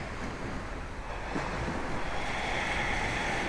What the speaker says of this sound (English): sync up to the sound of the ocean, the natural rhythm of the waves